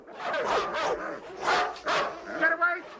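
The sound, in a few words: dogs barking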